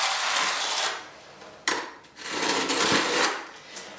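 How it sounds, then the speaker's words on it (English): A notched trowel scrapes thinset across cork underlayment in several rough, gritty strokes of varying loudness, with brief pauses between passes. "I'm going to use my troweled side. And I'm just going to scrape it through"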